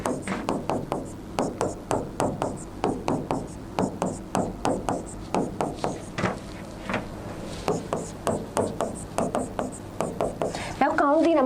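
A pen writes on paper during a Class 10 chemistry lesson, giving a steady run of short scratchy strokes up close, one after another, with no talk over it.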